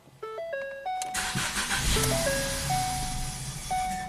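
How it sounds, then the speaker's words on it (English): A flood-damaged Ford Focus with a newly swapped transmission cranks and fires, then settles into a loud, close idle with a steady rumble and a few chiming dashboard tones. "And we'll start it, press the gas a little bit."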